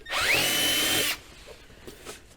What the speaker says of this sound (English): We're going to take a 5/16 drill bit and open these belly pan holes up.